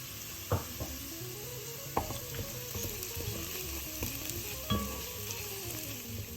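Garlic added to oil in a pan over very low heat for an Ottolenghi curried lentil soup, sizzling steadily and fairly close, with a few utensil clinks and stirring knocks scattered through.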